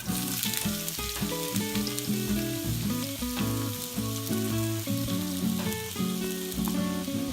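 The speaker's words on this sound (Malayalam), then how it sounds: "ഞാൻ ഇതിലേക്ക് അരിഞ്ഞു വെച്ചിരിക്കുന്ന സവാള ചേർത്ത് കൊടുക്കാം." Chopped onions fry in coconut oil for a Kerala-style egg roast, a continuous soft sizzle running beneath prominent background music, with occasional faint stirring taps.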